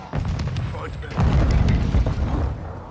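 A grenade goes off in a first-person shooter, a heavy close boom that swells after a moment over ongoing game noise, with a voice speaking briefly.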